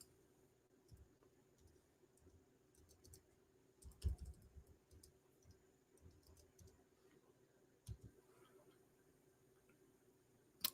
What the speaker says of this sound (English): I will type the word Isa.